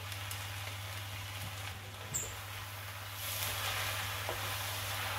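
Egg added to a chow mein pan and broken up produces a soft, steady sizzle under a low electrical hum, faint and continuous, with a brief clink partway through.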